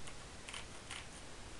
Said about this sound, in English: sorry if you hear the mouse keys